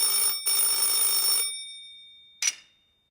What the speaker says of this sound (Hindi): एक दिन रमन के घर पर टेलीफोन की घंटी बजी।